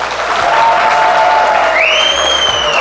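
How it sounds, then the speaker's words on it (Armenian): Guests on the bride's side at an engagement celebration clap loudly and steadily, a dense, continuous burst of applause close by with faint crowd murmur and a few whistled or cheering tones rising over it. "Հարսիկի կողմնա ծափեր տալիս։"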